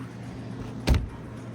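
A Tesla closes itself as the owner walks away: a single short, solid thump of the door or trunk shutting, heard once amid a low steady outdoor background, with no talk.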